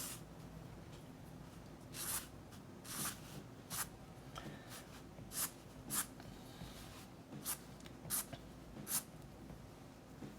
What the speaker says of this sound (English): I'm just using some lines to sort of draw the flow of the hair.